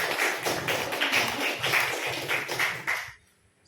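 A room of teachers at a school gathering claps together in an even patter of many hands, several seconds long, then stops abruptly into near silence.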